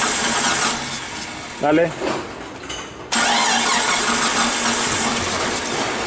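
A Jeep Cherokee XJ engine cranks, with talk over the cranking, then catches and settles into a steady, loud idle that runs on alone.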